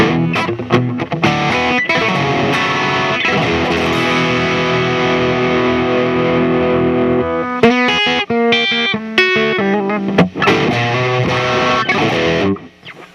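Squier Classic Vibe Telecaster electric guitar through a driven amp, chords ringing with a gritty edge, then choppier strummed phrases and short stops near the end, played alone.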